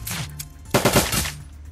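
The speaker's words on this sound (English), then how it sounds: "Yeah, full auto. Minigun does its job nicely." Minigun turrets fire full auto in the Shadowrun: Dragonfall video game, a short burst of rapid gunfire punching in mid-clip over a low game backdrop.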